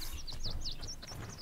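Birds chirp in the fantasy role-playing game Might and Magic X Legacy, a quick run of high, faint tweets over a low, steady ambient rumble.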